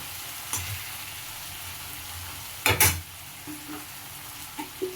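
Cumin, coriander and turmeric spices fry with onions in a little oil for an egg curry, a steady close sizzle broken by a few scraping stirs, one louder clatter midway.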